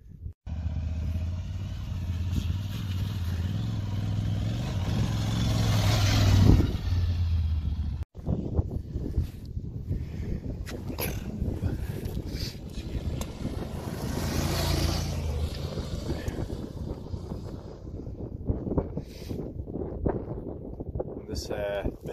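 Aprilia Tuareg 660 adventure motorcycle ridden through open desert country on a break-in ride, engine drone steady throughout and heavily mixed with wind buffeting on the microphone, a brief cut midway, then rougher rumble continuing.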